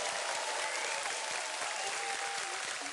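On a Swedish TV music show, a studio audience gives the orchestra a sustained round of applause. The clapping is dense and even, with no voices over it.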